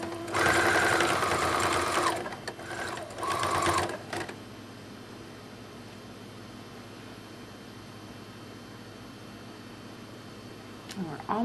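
A sewing machine stitches a ruffled sock, running in two loud bursts over the first four seconds and then falling silent with only faint room noise.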